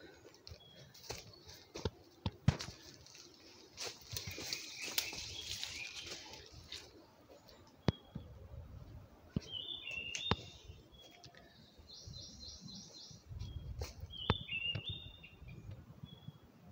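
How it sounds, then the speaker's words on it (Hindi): Small birds chirping in a Himachal hillside forest, faint scattered tweets and short trills over rustling and footsteps, fairly distant. "अभी आप भी सुन रहे होंगे ये पक्षियों की चहचहाट बहुत ही प्यारी आवाज़ में कुछ कह रही है"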